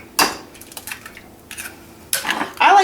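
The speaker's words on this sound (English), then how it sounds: "I'm just going to put some in a bowl and mix them together with a little bit of milk" Whole eggs being mixed with a little milk, seasoned salt and pepper in a bowl: scattered clinks and scrapes of a utensil against the bowl, louder toward the end, with no talking.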